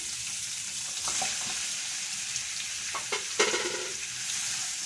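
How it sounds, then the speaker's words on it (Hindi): Mutton drops into a hot karahi for a Shinwari karahi and fries with a dense, steady sizzle, broken by a few sharper spits and stirring clinks, close and continuous with no talk. "जो मैंने यहाँ पर गोश्त लिया हुआ है वो शामिल कर दें"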